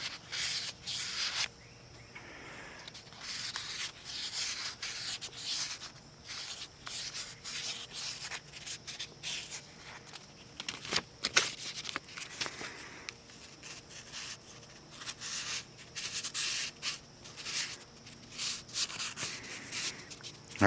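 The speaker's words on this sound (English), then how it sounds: "we're gonna take a little 1500 grit, and I'm just gonna" Fine 1500-grit sandpaper scrubs the ring grooves of a small two-stroke piston from a Poulan Pro BVM200 leaf blower, a steady close-up rasping of quick irregular strokes that runs continuously with no talk.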